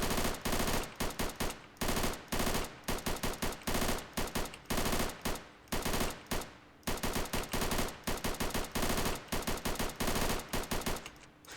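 Repeated bursts from a PPSh-41 submachine gun in the ARMA 3 Iron Front WW2 mod rattle out loud and close, long strings of rapid automatic fire broken by brief gaps over nearly twelve seconds, with no speech.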